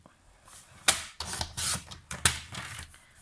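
Cardstock for a 4x6 card is cut on a paper trimmer in several sharp slicing strokes, each a brisk close rasp with clicks between, in a quiet room.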